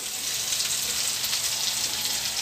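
Chicken liver and gizzard sizzle in a hot pan, a dense, steady hiss and crackle close up and fairly loud throughout the short stretch with no talk over it.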